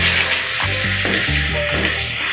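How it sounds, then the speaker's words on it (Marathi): Ginger and garlic sauté over low heat in a pan for paneer bhurji, giving a steady, close frying sizzle with soft stirring scrapes throughout, no voices. "आलं आणि लसूण हलकं परतून घ्यायचं आहे"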